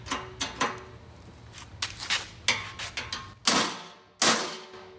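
A hammer strikes a frozen lock, sharp metallic hits ringing out one after another, about a dozen irregular clanging blows, the last two louder with a brief pause between.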